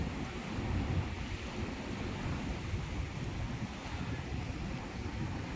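Floodwater from the Musi river in Hyderabad rushes through about fifteen opened gates. It makes a steady, dense roar like heavy surf, with no voices.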